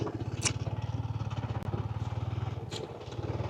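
A motorcycle engine idles with a steady, throbbing low rumble up close, a few faint clicks and clatters over it.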